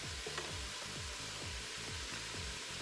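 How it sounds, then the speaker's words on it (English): Onions fry and get stirred in a pan for Zuppa Toscana soup. A dense, loud, steady sizzle runs throughout, broken by regular low scraping strokes of the spoon. No one speaks. "go ahead and add all your onions. Just give that a quick stir"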